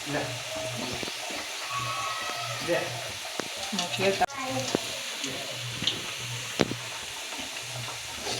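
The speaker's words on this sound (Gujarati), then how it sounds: "મુઠિયા તળવાનું ચાલુ થઈ જાય।" Muthiya fry in hot oil, a steady close sizzle with stirring clinks and occasional sharp knocks, while a person talks over the cooking.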